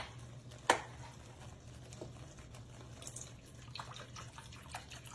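Whole milk pours into a pan of gravy for cubed steak, a faint, steady liquid trickle with one brief clink near the start. The kitchen is otherwise quiet and nobody speaks.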